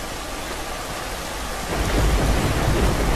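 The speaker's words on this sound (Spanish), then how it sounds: "Joder con la tormenta, macho." Thunderstorm with steady heavy rain in the video game The Last of Us; a dense wash of rain swells into a louder rumbling roll of thunder about halfway through, with no voices.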